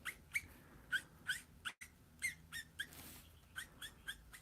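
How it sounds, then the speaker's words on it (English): Copic marker brush tip squeaking against paper while coloring, a string of short, high, chirpy squeaks in an irregular rhythm, fairly quiet and close, with no talking. "If you're hearing a squeak, that's the brush tip of the marker there."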